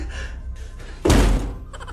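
A single heavy thud as a person bumps into a door, loud and close, set against quieter background sound.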